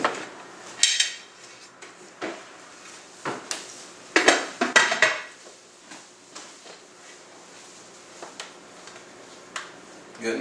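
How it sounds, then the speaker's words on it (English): Metal clatter and clanks ring out as a lid is set onto a canning pot in a kitchen, several sharp bangs and scrapes clustered in the first half, then quieter intermittent taps; no talking. "So I'm going to go ahead and put our lid on."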